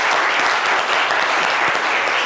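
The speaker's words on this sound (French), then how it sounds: "Applaudissements pour vous" Dense, steady applause from an audience for guests from Grand Lahou on a live midday show, a continuous loud wash of many hands clapping throughout with no pauses.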